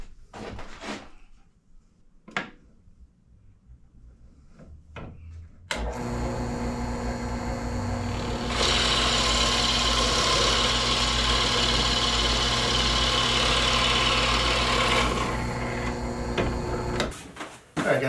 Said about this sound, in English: we'll go to the drill press and cut the hole